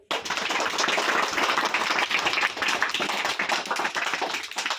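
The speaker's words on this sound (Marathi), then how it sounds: "तर यांचं कौतुक करा टाळ्या वाजवून" Schoolchildren at a village district council school clap together, a dense crackling patter of many close hands that starts abruptly and continues loudly throughout, with nobody speaking.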